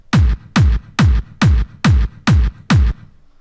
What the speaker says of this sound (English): So I'm using DR Hardstyle Kicks 7 in the category XP Drum Singles.